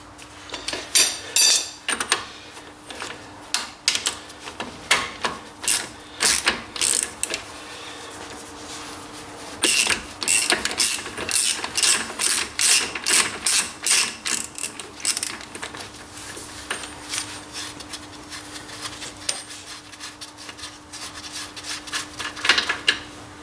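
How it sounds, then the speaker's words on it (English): A 30mm self-locking nut on a 2007 Ford Ka rear hub being undone, with rapid bursts of ratchet clicking from a close socket wrench separated by brief pauses and metallic scraping. "we've got this self-locking nut here, which is 30mm, and we're just going to undo that"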